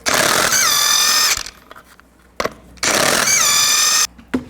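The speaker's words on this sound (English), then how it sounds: "Take the lug nuts off, use the same 22mm socket." Impact wrench spinning off lug nuts with a 22mm socket on a 1999-07 Chevy Silverado 2500 rear wheel, two loud close bursts of rattling whine, each about a second long, separated by a quiet gap and light clinks.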